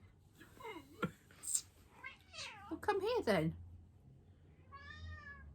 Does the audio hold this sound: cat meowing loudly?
yes